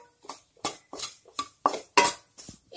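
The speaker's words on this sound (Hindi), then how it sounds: "उसी कढ़ाही में हम मावा को डाल के चम्मच से चलाते हुए सॉफ्ट करेंगे" A spoon scrapes and knocks against a kadhai while mawa is stirred, giving about eight distinct, close strokes in an uneven rhythm with quiet gaps between them.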